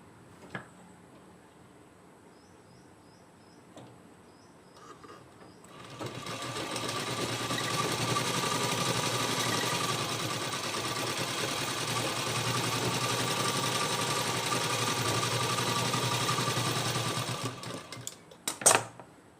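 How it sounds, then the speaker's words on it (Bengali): A sewing machine stitches a seam on sleeve fabric, starting after a few quiet clicks and then running in a steady, close, loud mechanical whir for about twelve seconds before stopping with a few handling clatters. "প্রথমে আমি একটি সেলাই দিয়ে দেবো"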